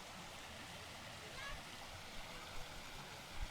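A clear mountain stream flows steadily on a day hike up Mt Mariglem, a continuous soft rushing wash with a few faint splashes, fairly quiet throughout.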